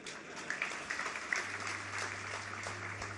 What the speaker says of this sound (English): We give the children a round of applause, another round of applause, ladies and gentlemen